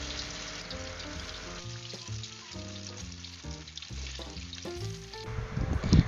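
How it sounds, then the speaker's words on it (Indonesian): Diagonally cut slices fry in hot oil with a soft, steady sizzle beneath louder background music. "Kemudian goreng di minyak panas ya."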